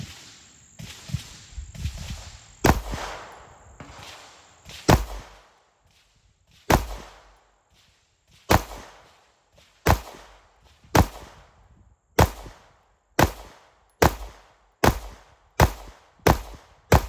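Pistol shots from a 5-inch government-bushing Platypus with a staggered V6 ported barrel, fired while sighting in: about fifteen sharp, loud reports, irregular at first, then steady and evenly spaced, each with a short ringing tail.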